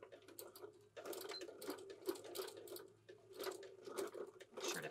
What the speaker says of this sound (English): Make sure to backstitch a couple of times.